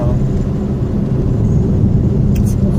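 Inside a car jolting along a rough, potholed road, a loud low rumble of engine and tires runs continuously, with a faint voice now and then beneath it.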